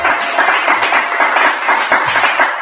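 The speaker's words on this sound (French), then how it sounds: "applaudir le Seigneur, applaudir le roi des rois" Congregation applauding during a church sermon, a dense continuous wash of many hands clapping with a few sharper individual claps standing out, loud and steady throughout.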